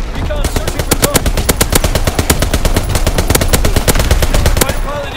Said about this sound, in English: Anti-aircraft battery in position. Ready to deny the skies on your order. Firing primary battery.